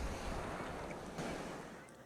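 Sea waves wash steadily onto a beach, a broad continuous surf hiss with gentle swells and some wind rumble across the microphone, no voices.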